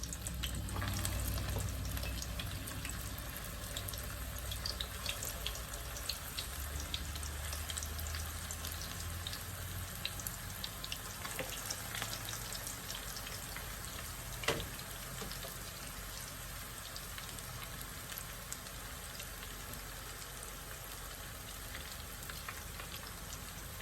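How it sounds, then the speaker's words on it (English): Meatballs frying in a hot pan give a steady, close sizzle and crackle that runs throughout, with a single sharp clink partway through. "So we're gonna add these meatballs and get these cooked up right away."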